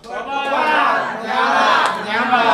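A church congregation at a Christmas service cheers and shouts together, a loud sustained mass of voices that swells and dips in waves, near and full.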